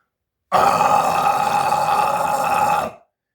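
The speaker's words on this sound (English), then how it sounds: "how they were doing an actual false chord" A false chord scream from a metal vocalist, one harsh, gritty, sustained roar of about two and a half seconds, loud and close, beginning abruptly and cutting off cleanly.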